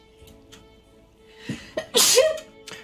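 A single sharp sneeze bursts out near the end, preceded by a couple of short breathy intakes, close and fairly loud over a quiet room background.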